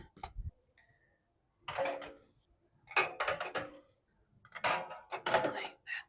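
Glass jars are set into a pan while painting, making several separate bursts of clinking and clattering glass with quiet gaps between them, close by.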